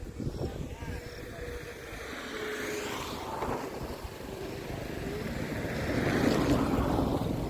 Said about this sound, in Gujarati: ઠંડો પવન છે વાદળછાયું વાતાવરણ છે